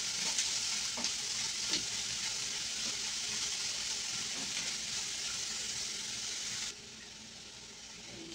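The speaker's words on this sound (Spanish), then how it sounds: "le voy a agregar la cebollita. La voy a sofreír." Onion sautés in hot oil for sardine pescadillas, an even, close hiss of frying with a few faint utensil taps, cutting off abruptly near the end.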